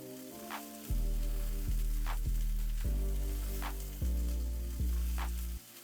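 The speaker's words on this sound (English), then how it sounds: "Once the oil is hot, I'm gonna add 10 tomatillos, 1 garlic clove, and 2 chiles jalapeño." Tomatillos, a garlic clove and jalapeño chiles fry in hot oil in a pan, giving a steady crackling sizzle over a low tonal backing.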